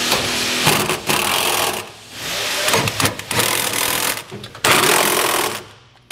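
Power tool tightening bolts on a B and W Turnoverball gooseneck trailer hitch being installed in a 2022 Ford, loud rattling bursts of impact with brief gaps between bolts, close by.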